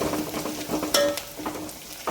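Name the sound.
green chillies and onion sautéing in hot oil tempering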